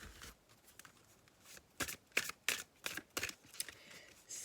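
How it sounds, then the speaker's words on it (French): Tarot cards being shuffled and drawn by hand, a quick run of soft papery flicks and riffles building into denser, louder snaps near the end, close and quiet with no voice. "Je vais demander une seule carte."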